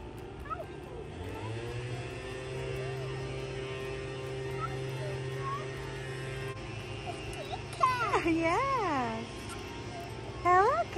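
A cat at a playground gives a few wavering meows toward the end, close by, over a steady background hum with voices talking nearby.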